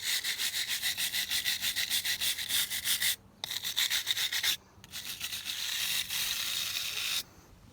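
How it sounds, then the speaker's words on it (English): A wire brush scrubs fresh, still-soft mortar joints in steady, rapid back-and-forth rasping strokes, close and loud, with two brief pauses and a smoother stretch of scrubbing toward the end. "I can get a wire brush, and within a day, if you give it a good scrub"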